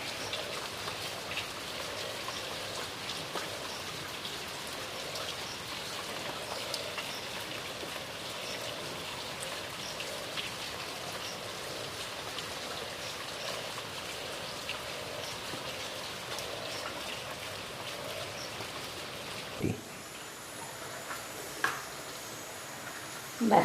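Heavy rain pours outside in a steady, dense hiss that runs throughout, with a few louder knocks and thumps near the end.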